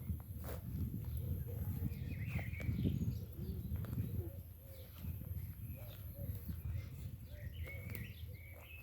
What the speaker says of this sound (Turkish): yeşillikler çiçekler arasındayız arkadaşlar ve kuş sesleri içerisindeyiz